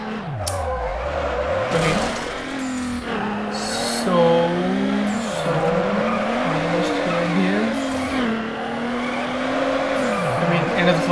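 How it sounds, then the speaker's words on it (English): A Subaru drifting in the video game Need For Speed Underground, its engine whining and rising and falling in pitch while the tires squeal through long slides, with someone talking over it. "I got an almost colossal drift and a colossal drift."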